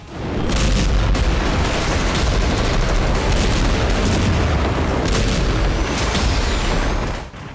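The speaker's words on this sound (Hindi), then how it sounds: "आसमान से जबरदस्त बमबारी, जमीन पर विध्वंसक ग्राउंड ऑपरेशन" Heavy aerial bombardment with dense, continuous booming blasts and rolling thunder-like rumble, loud and sustained for several seconds before cutting off abruptly.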